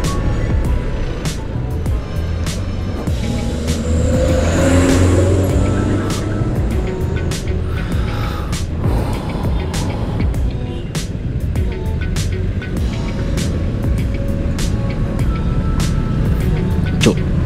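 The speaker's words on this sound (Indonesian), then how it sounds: "Jalannya macet banget ya Malang ini." Heavy traffic jam on a road in Malang heard from a moving motorbike, with a steady engine drone, wind rumble and surrounding vehicles, plus a few sharp clicks.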